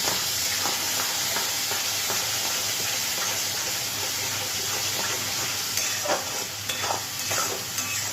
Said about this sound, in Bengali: এইবার আমি মশলাটাকে ভালো করে কষিয়ে নিচ্ছি।